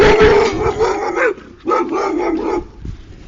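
A puppy barks and yelps loudly and close by in two quick bursts, with a short pause between them and a few fainter yips trailing off at the end.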